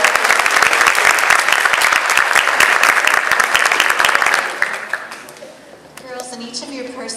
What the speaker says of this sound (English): will you give Accessorize Me a big round of applause?